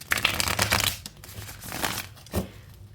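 Quick bursts of crisp tarot card shuffling, a riffle in the first second followed by softer flutters and one short final snap.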